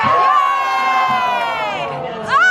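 A crowd of children at a Gatorland show yells and cheers loudly and continuously, a sustained shrill clamor with a fresh rising whoop at the end.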